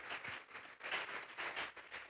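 A church congregation applauding during a worship service, faint rhythmic clapping in regular bursts from a distance.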